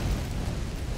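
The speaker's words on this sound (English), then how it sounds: "Oh shit, I blew my bomb." A deep, rumbling bomb blast in the video game Lara Croft and the Guardian of Light, one sustained booming roar filling the brief moment.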